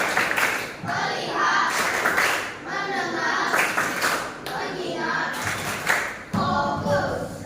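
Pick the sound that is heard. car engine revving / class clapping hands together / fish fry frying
class clapping hands together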